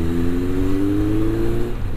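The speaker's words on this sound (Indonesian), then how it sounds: "Dari suara knalpotnya udah bisa kedenger di motor kalem" A Honda CB 1100F motorcycle exhaust runs with a loud, smooth, steady engine drone, its pitch holding level, then easing down slightly near the end.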